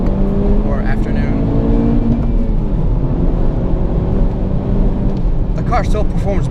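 A 2017 Honda Civic Type R with a transmission issue driven spiritedly on a wet morning road; a close, continuous engine drone swells and falls as revs rise through the gears.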